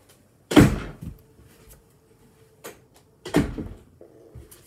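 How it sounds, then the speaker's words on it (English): A bedroom door thuds shut twice with sharp knocks and a brief latch click, followed by quiet room hum. "Close my door."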